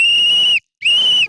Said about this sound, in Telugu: ఏదో విజిల్ వచ్చిందిరా, పోలీస్ విజిల్ అనుకుంటా